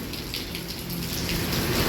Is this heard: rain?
yes